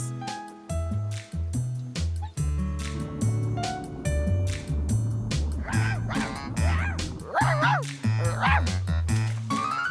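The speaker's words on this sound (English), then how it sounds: "There's a dog." Cartoon dog barking in a children's animated episode, several yipping barks and whimpers over a busy music score, fairly loud and repeated throughout.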